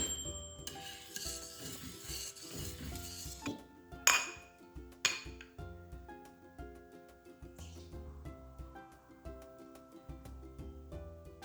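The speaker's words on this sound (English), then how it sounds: "we keep on stirring until it cools out a little bit" Watermelon pudding being stirred in a pot on a switched-off stove as it cools: continuous rubbing and scraping of a utensil against the pot, with a few sharp metallic clinks near the middle, alone and close.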